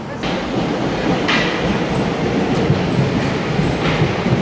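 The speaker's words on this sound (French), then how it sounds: "Ça va être le premier métro de la journée." A Paris metro train runs with a loud, continuous rumble of wheels on rails, with faint rhythmic clacks and brief higher squeals, heard from close by in the carriage.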